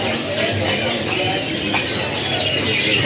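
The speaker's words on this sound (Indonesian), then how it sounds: "Untuk stok burung kenari seri loper warna gelapnya di sini juga masih banyak sekali pilihannya." Dark-coloured loper-type canaries chirp and sing together at a bird kiosk in Bandung, a busy mix of bright twittering calls over loud ambient noise.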